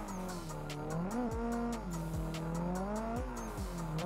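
A Nissan S14 with street drift-spec setup driving in Assetto Corsa, its engine droning steadily with rising and falling revs and several quick gear-shift drops over about four seconds, loud and continuous with no talk.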